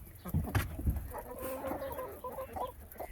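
A rooster and a flock of hens clucking as they are let out in spring, a busy mix of short clucks and murmurs close by, with some thumps and rustling early on.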